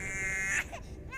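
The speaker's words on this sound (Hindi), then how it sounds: "लेकिन बच्चे के रोने की आवाज तो आ रही थी ना।" An infant cries steadily for about half a second in an empty room of a house, then breaks off abruptly.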